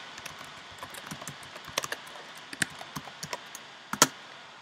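A computer keyboard taps out a Minecraft command, a string of light, irregular keystrokes over a soft background hiss, ending in a couple of firmer key presses.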